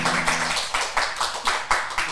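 An audience claps in a steady, even rhythm for a guest singer on an Indonesian talk show, the sharp slaps sounding close and clear with no voices over them.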